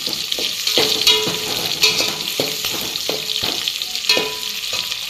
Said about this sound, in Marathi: त्याला आता सगळं आपण हलवून घेऊया असं पूर्ण हलवायचं आपल्याला।